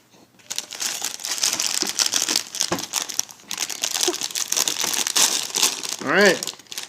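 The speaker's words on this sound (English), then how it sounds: "So let's go ahead and tear it open." A plastic bag of Lego kit packaging being torn open, with close, continuous crinkling and crumpling of plastic for several seconds, and an excited voice briefly heard near the end.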